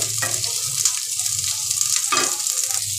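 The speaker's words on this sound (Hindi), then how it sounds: "प्याज को हम कुछ सेकंड के लिए सौते कर लेंगे" Onions sautéing in hot oil in a pan, a loud, close, continuous sizzle with two bursts of stirring or scraping, no talk.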